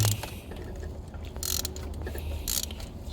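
Ratchet work on the ignition coils of a Land Rover Range Rover engine, with bursts of rapid clicking ratchet strokes over a low mechanical hum, close and moderately loud, no talking.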